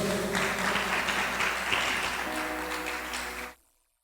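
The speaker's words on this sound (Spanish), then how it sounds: "Dale ese fuerte aplauso a Dios." A church congregation breaks into strong, sustained applause that rings through the hall before cutting off abruptly into silence.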